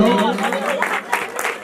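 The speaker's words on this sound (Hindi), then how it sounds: "तालियां तो बजाओ सभी लोग।" Applause rises from the audience at a stage drama performance held for Sharad Purnima, with short bursts of clapping mixed with voices talking over it.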